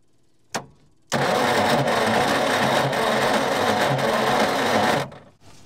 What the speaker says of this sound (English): the motor's cranking, the battery's being dragged down from the starter motor